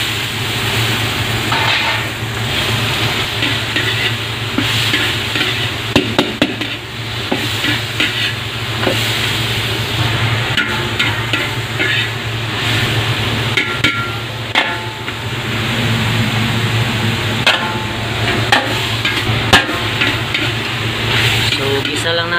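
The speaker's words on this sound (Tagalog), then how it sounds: "gisa na tayo. Lagyan natin yung karne." Two kilos of pork for nilagang baboy sautéing in a pan, with a loud continuous sizzle, clanking spatula strikes against the metal and steady stirring throughout.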